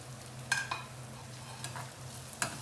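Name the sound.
onions frying in pan for lentils with spinach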